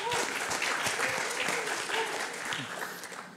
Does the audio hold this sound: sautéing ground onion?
no